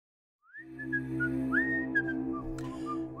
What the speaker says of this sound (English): Hey, you guys whistling over there?